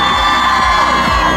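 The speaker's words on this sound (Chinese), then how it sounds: "各位朋友们尖叫声！" A dense crowd of fans screams and cheers at a boy group's debut-day photo event, a loud, sustained wall of high-pitched shrieking that fills the whole moment without a break.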